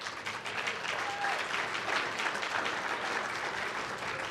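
Sustained applause fills the hall at a policy conference, a thick, even roar of many hands clapping that continues without a break for over four seconds.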